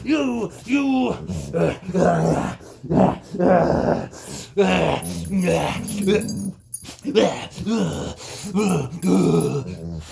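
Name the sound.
dog growling while play wrestling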